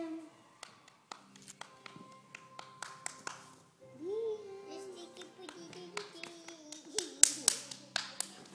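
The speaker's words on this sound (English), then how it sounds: "Let's see if he's going to clap." A young boy tries to clap his hands at home, giving a series of light, uneven taps and pats, some close and sharp, with children's voices and chatter running through and over them.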